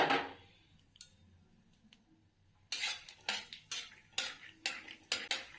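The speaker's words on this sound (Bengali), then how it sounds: "কড়ার মধ্যে অল্প তেল দিয়ে দিলাম, বাদামগুলো দিয়ে দিলাম, একটু ভেজে নেব।" Peanuts frying in a little oil in a wok, heard mostly as a sequence of sharp, regular metallic clinks and scrapes of a spatula against the pan after a quiet stretch, without much audible sizzle.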